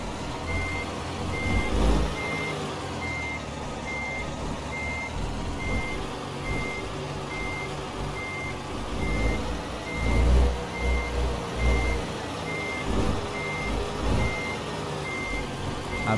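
Reversing alarm of a Mercedes-Benz Actros 2546 truck with a curtainside trailer in Euro Truck Simulator 2 on a narrow road, beeping steadily and evenly over a continuous engine rumble.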